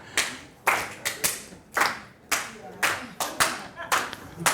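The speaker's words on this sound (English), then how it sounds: "we kind of just have the click track, or the clap track" A clap track in a song groove: sharp, close handclaps landing in a regular swung rhythm, each with a short decay, alone with no talk over them.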